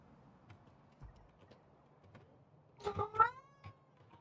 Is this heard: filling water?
no